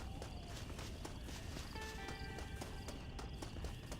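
Rhythmic horse hooves clip-clop steadily at a walking pace in Red Dead Redemption, against a dense background of ambient game sound.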